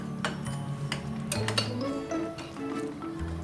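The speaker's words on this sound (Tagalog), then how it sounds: "stir it again para maging mas malasa yung ating white sauce" A utensil scrapes and clinks against a pan while white sauce is stirred for tuna spaghetti, a close series of light metallic taps and scrapes in an irregular rhythm.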